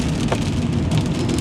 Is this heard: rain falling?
yes